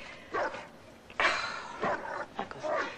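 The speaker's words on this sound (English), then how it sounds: "I gotta do something about that damn dog." A dog barks in a handful of quick, loud, close yaps and woofs over a short span, with brief gaps between bursts and no talking.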